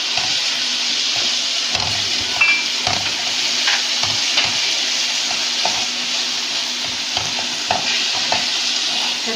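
Onion and tomato juices with salt, coriander and cumin fry and sizzle steadily in a hot pan, a continuous bright hiss with scattered spits and pops and occasional stirring scrapes, close and loud with no talk.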